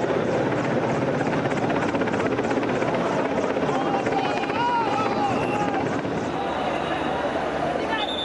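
A helicopter airlifting people trapped on upper floors of a burning building during a fire rescue produces a loud, continuous thudding rotor beat and engine whine that stays close and steady throughout.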